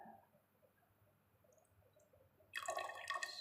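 Water is poured into a cylindrical measuring tube, starting with faint drips and trickles in near silence, then a sudden bright splashing fill that continues to the end.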